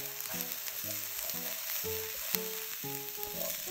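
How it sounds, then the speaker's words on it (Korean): Onion being stir-fried in a pan for a cabbage omelette, a continuous crackling sizzle with light scraping stirs, moderately quiet and close, with no talk. "오이를 넣고 양파를 볶습니다"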